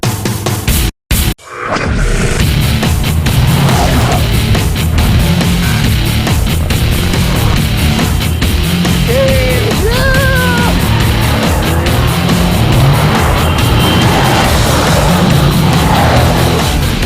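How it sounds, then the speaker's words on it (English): A 2012 Dodge Challenger SRT8's engine and exhaust roar loudly and continuously while the car is driven on a test drive, after a brief dropout at the start, with no talking. "I can hear your exhaust through my earpiece. I can hear your car lighting up in front of mine."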